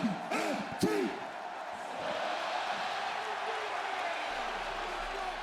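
A crowd in a WWE 2K16 wrestling arena roars in a steady, dense wash after a few short shouted calls at the start, the noise sustained and fairly distant.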